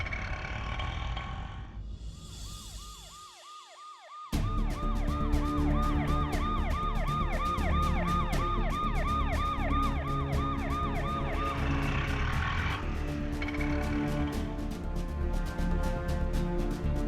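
An ambulance siren breaks in after a brief silence with a loud, rapid, repeating wail that runs for several seconds, then fades into the background among other street noise.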